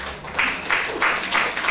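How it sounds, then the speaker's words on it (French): An audience applauds in repeated bursts, with a few short rhythmic swells of clapping and a faint voice underneath. "par applaudissement."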